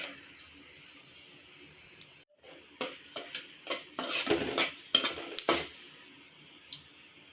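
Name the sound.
whole spices like fennel frying and crackling in oil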